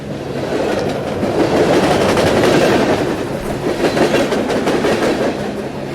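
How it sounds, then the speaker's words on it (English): A ghost train in the Into The Radius VR game rumbles past in a loud, sustained roar of rolling wheels and rattling cars, with faint clickety-clack beats running through it and no voices. "Random train noises from a ghost train."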